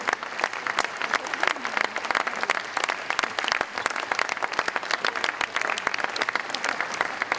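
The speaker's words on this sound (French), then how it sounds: "On peut applaudir tous ces garçons." An audience at a rugby league tribute ceremony applauds steadily, dense sustained clapping from a crowd, fairly close and continuous throughout.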